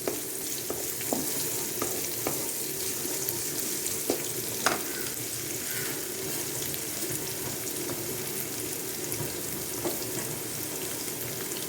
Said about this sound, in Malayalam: ഈ ചുവന്നുള്ളിയും അതുപോലെ കനം കുറച്ചരിഞ്ഞതാണ്. അത് ഇതുപോലെ ഒരുവിധം ഒന്ന് ബ്രൗൺ ആകണം.